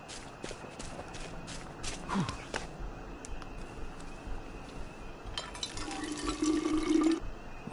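Water pours and fills a container at a fountain in the video game We Happy Few, with a steady liquid rush and gurgle near the end, preceded by soft footsteps and light clinks.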